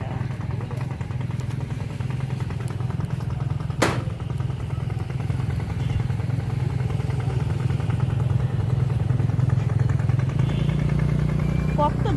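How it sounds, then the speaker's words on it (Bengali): A motor boat engine drones steadily on the flooded Ganges as the boat approaches, a continuous low mid-pitched throb that grows slightly fuller toward the end, with someone talking over it. "ওই দেখো নৌকাটা আসছে আসছে।"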